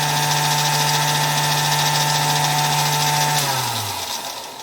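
A Singer 222K Featherweight sewing machine motor, suspected of a failed capacitor, runs flat out as a steady loud whine and hum, then slows and drops in pitch as it winds down near the end.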